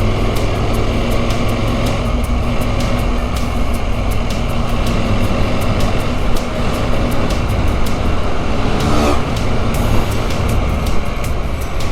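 Busy town street in Supia, Colombia, a constant loud roar of passing trucks, cars and engines, with rhythmic ticking clatter and a brief louder surge near the end, heard close by with no speech.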